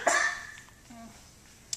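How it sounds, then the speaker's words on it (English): A person gives a short burst of harsh coughing at the start, followed by quieter throat noises and a faint click near the end, heard up close in a quiet room. "I have to cough really bad."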